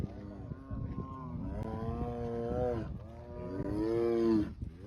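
A tiger imitating a cow's moo gives two long, droning, low calls in a row, fairly close, with a short break between them.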